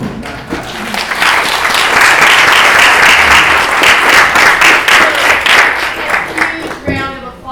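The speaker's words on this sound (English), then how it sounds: "Round of applause" Audience at a candidates forum breaking into sustained loud applause, dense steady clapping filling the room for several seconds before tapering off near the end.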